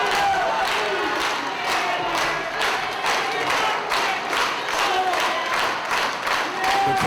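A capacity crowd at a wrestling match in Crystal River roars and cheers steadily with rhythmic claps and chanting. The dense, loud wall of noise never lets up, and a commentator's voice comes through faintly.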